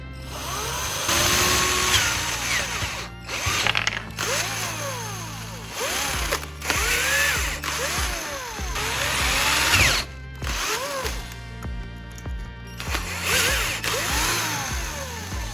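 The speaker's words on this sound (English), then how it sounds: "Once the positions are clearly marked, I'll carefully drill the two holes." A power drill whirs in repeated bursts, its pitch rising and falling as it bites into a plastic end cap, with short pauses between runs.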